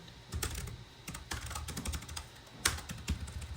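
Computer keyboard typed in bursts of quick, close key clicks with short pauses and a few louder keystrokes, while someone writes Kotlin code.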